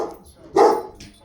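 A dog barks once, loud and close, near a kitchen window on a freezing day in Washington State.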